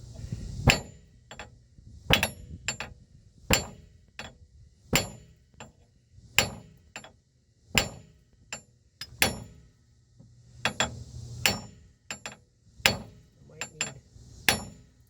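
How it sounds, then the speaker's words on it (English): Repeated sharp metallic hammer strikes on a stuck disc brake part, about one per second in an uneven rhythm, ringing clearly and close by, with faint background noise between blows. "all I have to do now is carefully hammer this thing out"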